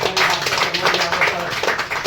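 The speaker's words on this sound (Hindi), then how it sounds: "एक जोरदार तालियों से स्वागत" Audience at a motivational speech event claps in welcome, a brisk burst of many hands with a pulsing, uneven rhythm, fairly close and loud.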